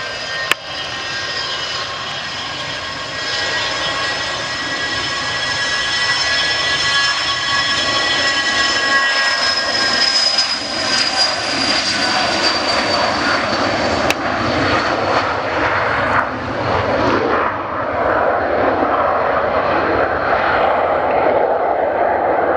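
A Jet2 airliner's jet engines roar steadily during an engine test at Manchester Airport, a loud sustained whine and rumble heard from a distance that holds for the whole stretch with a slight fade near the end.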